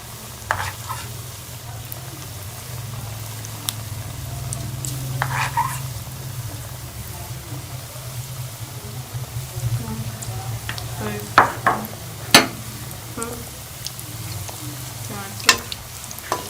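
Dahi bhalla pakoris deep-frying in hot oil, a steady bubbling sizzle that holds throughout, with occasional sharp crackles and pops near the end as the batter dumplings turn golden.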